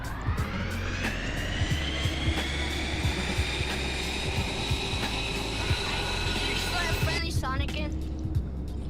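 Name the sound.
airplane engine flying in VRChat video game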